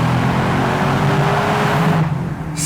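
Mercedes C63 AMG V8 cabriolet revs loudly in a tunnel, a dense, roaring engine note that holds steady and then eases off near the end, with no talking.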